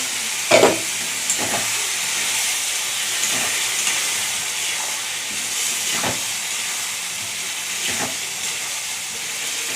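Paneer masala cooking in a pan after water is added, a loud steady hiss of steam and sizzle with occasional stirring scrapes and soft knocks, close up and continuous.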